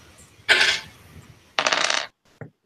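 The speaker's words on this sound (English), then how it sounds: "Thought, give me a percentile dice roll, please" Percentile dice for a tabletop role-playing game clatter across a surface in two distinct rattling bursts, each lasting about half a second, followed by a brief faint tap as they settle.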